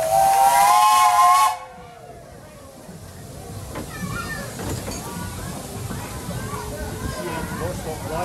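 At a Michaelmas fair procession, a steam engine lets out a loud, shrill whistle blast that cuts off after about a second and a half, followed by hissing steam and faint crowd chatter with children's voices in the background.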